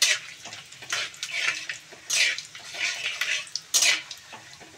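Bay leaves, dried chilli, cumin and whole garam masala spit and crackle in hot oil in a home kitchen, bursts of bright sizzling rising and falling with stirring, fairly close.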